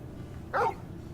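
A single short bark from a young dog in Final Fantasy 16, a bright yelp of about a quarter second standing clearly above a low, steady game ambience.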